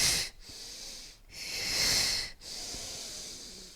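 Slow, airy breathing during a mat Pilates workout with band and toning balls, with long hissing exhalations in a steady rhythm broken by short pauses, close and fairly quiet.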